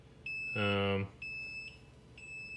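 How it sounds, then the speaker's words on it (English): Electronic beeping from the electronics of an ion thruster powered boat running at 4.5 volts, a steady high tone sounding in several bursts while someone talks nearby, with a louder harmonic-rich buzz partway through. "that's gonna beep because it doesn't know what it's doing"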